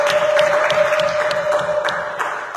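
Congregation at a church service applauding, brisk overlapping claps over a steady held tone, loud and fairly even before easing slightly.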